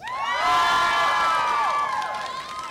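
A large crowd at a university graduation ceremony cheers and shouts together in a bright, sustained roar that swells and then slowly fades.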